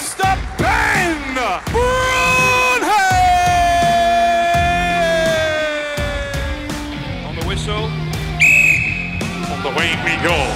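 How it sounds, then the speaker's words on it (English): At a strongman competition in Manchester, a crowd cheers, yells and whistles loudly, with shrill whistles cutting across the roar and a voice calling over the noise. "Make some noise for Mr. Ben!"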